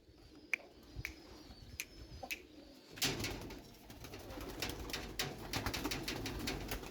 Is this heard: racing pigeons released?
yes